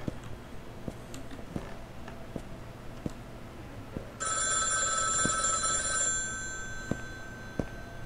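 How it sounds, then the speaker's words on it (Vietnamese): Telephone ringing inside a house in the horror video game iBLiS, a bright electronic ring bursting in partway through over quiet ticking background, lasting about two seconds before fading. "Có điện thoại. Xuống nghe thôi."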